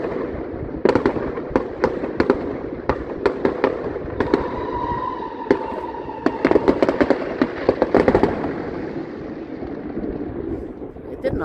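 New Year fireworks and firecrackers burst in a rapid, irregular series of sharp cracks and bangs, some clustered, with a whistling rise midway and someone talking over the noise.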